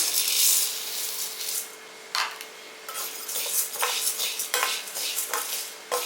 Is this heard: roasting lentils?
yes